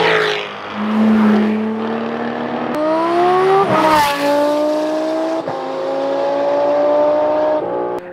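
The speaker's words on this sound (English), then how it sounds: "I don't know how he gets that sound out of a flat six" A loud straight-piped flat-six engine of a Porsche GT3 RS revs hard and screams upward in pitch, with sharp throttle blips and rising howls close by.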